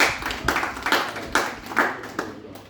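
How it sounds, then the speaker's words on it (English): A small group claps briefly in scattered bursts, the applause fairly close and fading out after a few seconds. "a big round of applause"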